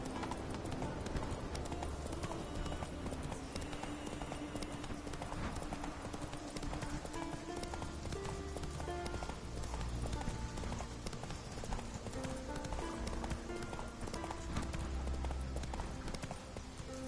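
Roach, the horse in The Witcher 3, gallops steadily with continuous rhythmic hoofbeats under a dense game soundtrack, and a voice speaks briefly.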